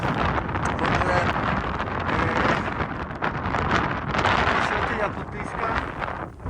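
Strong wind buffets the microphone high in the Himalayas near 3,800 metres on the Everest base camp trek. The roar is loud and continuous and fills the whole stretch without a break.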